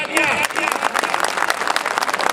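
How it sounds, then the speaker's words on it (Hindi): Crowd applause at a rally in Quetta for the organizing committee, dense steady clapping that fills the whole moment, with a voice briefly audible at the start. "तमाम ऑर्गेनाइजिंग कमेटी के मेंबरान के लिए भरपूर तालियां।"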